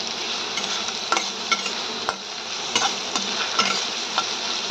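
Potato and green chili sautéing in a pan for sabudana khichdi, a continuous close sizzle punctuated by repeated scraping and tapping of a spoon as the pieces are stirred.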